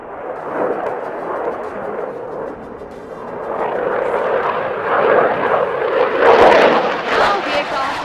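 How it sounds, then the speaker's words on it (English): A fast military jet carries out a max rate turn at an air show at Yelahanka, Bengaluru, producing a loud, swelling roar that builds toward the end. "it is time to witness the agility of the aircraft to carry out a max rate turn"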